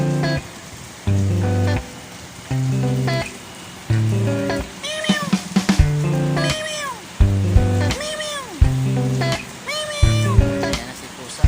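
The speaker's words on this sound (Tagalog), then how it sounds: "Ayan na si Pusa." A cat meows repeatedly, a string of short cries about a second apart, over the steady patter of rain.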